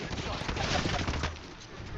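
A dense, continuous clatter of close gunfire in the video game Apex Legends keeps up through the moment and thins slightly toward the end.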